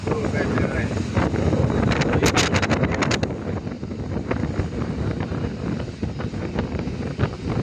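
Night wind buffeting a microphone outdoors by a river in Dubai, a constant rumbling gust with brief crackling bursts, and some faint background activity.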